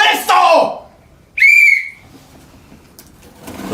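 One short, shrill whistle blast sounds close and loud between bursts of excited talk.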